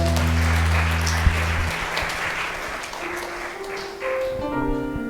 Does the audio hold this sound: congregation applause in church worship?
yes